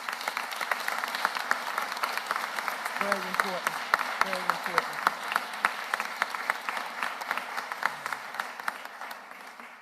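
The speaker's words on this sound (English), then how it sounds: "Please give them a super huge round of applause." Applause from an audience honoring people who served, at a Philadelphia city government announcement; dense sustained clapping throughout, with a voice speaking briefly over it partway through.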